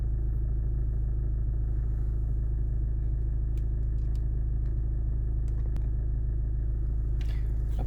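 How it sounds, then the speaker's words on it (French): A Renault Megane's engine runs at a steady idle, a continuous low rumble that stays loud and even throughout, with a few faint clicks on top. "je vais démarrer la voiture pour voir"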